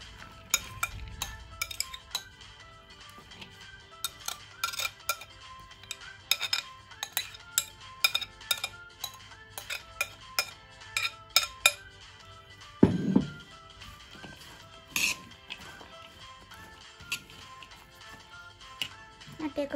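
Vegetable salad tossed in a bowl, with repeated light clinks and taps of a utensil against the dish in an irregular rhythm and a heavier knock partway through; a voice speaks faintly at times.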